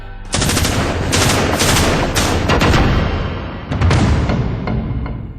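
Loud, dense bursts of automatic gunfire in a crossfire between Assam Rifles soldiers and militants, rattling almost without pause and briefly dipping before another heavy volley.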